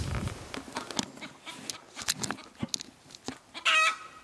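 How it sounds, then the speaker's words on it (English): A chicken on a homestead clucks and squawks agitatedly, scattered sharp calls building to a loud drawn-out squawk near the end, amid light rustling and outdoor noise. "I don't know what that chicken's problem is."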